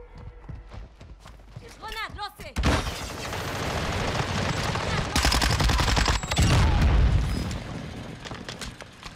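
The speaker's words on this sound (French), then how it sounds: "J'ai entendu des tirs à droite." Gunfire crackles in Warzone after a sudden onset, with loud, dense bursts going on for several seconds over a busy game mix and team chatter.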